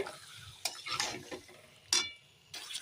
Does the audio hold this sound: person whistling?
no